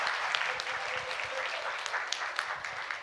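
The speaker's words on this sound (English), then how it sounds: "I want your claps for these students who help to transmit this session for us." An audience at a university principals' conclave claps steadily for students, a dense even patter of many hands filling the room with scattered louder claps.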